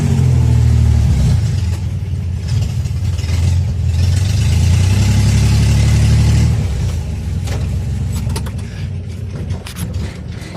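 A Chevrolet Corvair engine runs for the first time and is in need of a tune-up, a loud, close, steady rumbling idle with occasional revving swells that fade slightly toward the end, with no talking.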